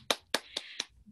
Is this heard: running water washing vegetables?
no